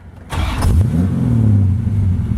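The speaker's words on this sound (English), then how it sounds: "We're going to fire it up here." A 1932 Ford Roadster street rod, Brizio built with a Brookville steel body, cranks briefly and fires, then settles into a loud, close, rumbling idle with a short rev.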